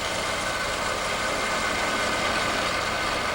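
A drill press spins a fluted router bit at 4,700 RPM, cutting overlapping holes in a wood workpiece. The steady, loud broadband whir stays even and continuous, with a low motor rumble underneath and no talking.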